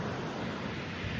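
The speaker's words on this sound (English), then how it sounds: "And you can hear the waves in the background" Ocean surf at Copacabana beach in Rio de Janeiro, Brazil, around 6:30 in the morning: a steady, broad wash of waves with wind, continuous and even throughout, no voices over it.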